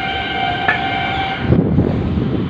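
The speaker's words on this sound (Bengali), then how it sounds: "এইখান থেকে আপনারা মেট্রো ধরতে পারেন বা ধর্মতলা।" A Kolkata Metro train at Esplanade station makes a loud, steady rumble with a sustained high tonal whine that cuts off partway through, leaving the rolling noise alone.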